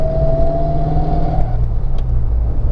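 A car with 3.73 gears pulls forward under steady acceleration during a speedometer accuracy test, its engine drone rising slightly in pitch, close and continuous inside the cabin with no talk.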